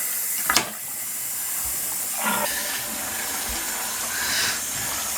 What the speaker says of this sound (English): You see it's going down the overflow